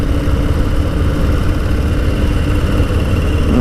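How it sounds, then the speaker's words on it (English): A Harley-Davidson Low Rider S motorcycle engine braking with the throttle closed, a steady loud low rumble held close and continuous throughout, no talk. "You just back off the throttle, you get yourself some engine braking."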